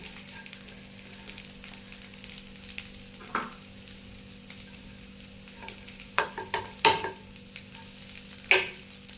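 Maggi noodle tikkis fry in a pan with a faint, steady sizzle, and a few sharp utensil clicks and scrapes cluster toward the end as they are turned.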